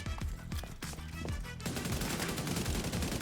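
Gunfire from The Division 2 video game shooting at enemies: several sharp, separate shots give way to a dense, continuous burst of rapid fire, loud and close.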